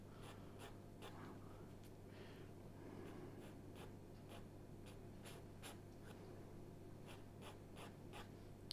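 Rhythmic scratching of an unsharpened pencil drawing on paper, close and steady, with repeated short strokes over a low constant hum.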